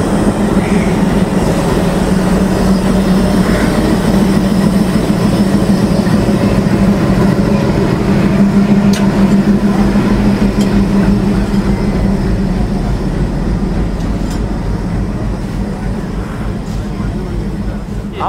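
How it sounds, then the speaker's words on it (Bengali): An intercity train hauled by a WDM 3D diesel locomotive pulls out of a Bangladeshi station: a loud, steady rumble and drone with rolling rail noise throughout, a faint high whine above. "আমাদের ট্রেন ছেড়ে দিবে নাটোর রেলওয়ে স্টেশনের উদ্দেশ্যে"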